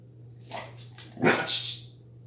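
A dog barks on command in a few short, close yips and whiny barks, alone in a quiet room with a steady low hum behind.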